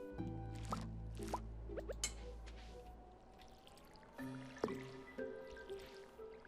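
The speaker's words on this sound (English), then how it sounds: "I'm trying to water that one section and it's not working" Watering crops with a watering can in the farming game Stardew Valley: soft splashing, dripping game effects amid chimes and background music, quiet and alone without talk.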